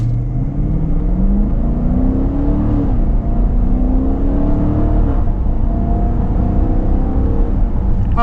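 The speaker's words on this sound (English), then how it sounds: "It's a naturally aspirated V8, nice linear torque delivery. Great sound out of the out of the exhaust" A Dodge Durango GT's naturally aspirated Hemi V8 pulls hard under acceleration, a loud, close exhaust drone rising in pitch through a gear, then climbing again after a brief dip.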